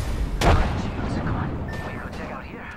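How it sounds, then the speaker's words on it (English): A grenade explosion in Apex Legends, one sharp, heavy blast near the start, then a rumbling tail and quieter game noise. "Grenade out!"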